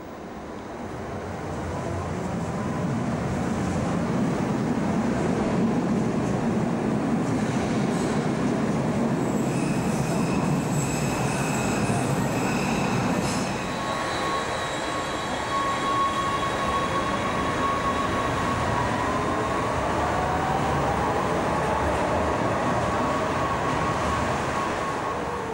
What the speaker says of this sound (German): Im Minutentakt kommen die Züge an und fahren wieder ab.